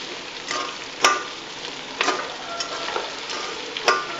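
Rice dish ingredients, coriander, mint and poppy seeds among them, being stirred and mixed in a pan, with scraping spoon strokes recurring every second or so over a soft steady sizzle, close and clear with no talking.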